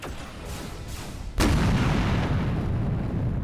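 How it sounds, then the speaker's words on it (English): A Tomahawk heavy missile launching in the X3: Albion Prelude space combat game: a deep, sudden roaring boom cuts in and settles into a loud, sustained rumbling rush that fills the rest of the moment. "Tomahawk heavy missile"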